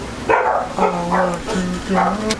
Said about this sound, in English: Dang, they be barking.